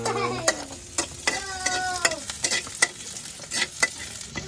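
Chicken gizzards stir-fried in a pan, a steady close sizzle broken by rhythmic scraping stirs about every half second.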